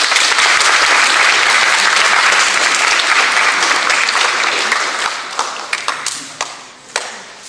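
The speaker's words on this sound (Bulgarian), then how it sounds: "така че аплодисменти за тях." A crowd at a robotics award ceremony at a technical university applauds loudly and steadily, then the clapping thins into scattered individual claps and taps at the end.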